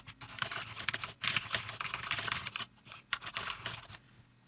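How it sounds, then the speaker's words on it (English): Quick bursts of typing on a computer keyboard, close and quiet, with short pauses between runs of clicking keys. "So here I can type my question in."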